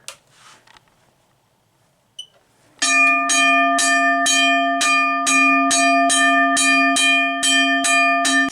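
A US&S Teardrop mechanical railroad crossing bell rings loud and close, about fourteen even, rapid strikes with a bright sustained ring, after a few faint knocks and handling sounds.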